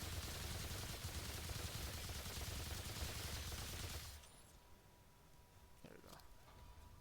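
Rapid video-game gunfire from Remnant 2 rattles loud and continuous for about four seconds, then cuts to a quieter stretch with faint clicks and distant effects.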